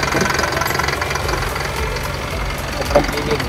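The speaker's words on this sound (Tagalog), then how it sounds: "Tining na tining ang makina." A used closed van from Hokkaido idles close by, a steady low engine rumble with a faint knocking texture and a brief bump near the end.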